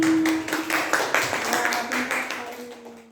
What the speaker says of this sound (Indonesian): tepuk tangannya mana buat Mbak Tiffany.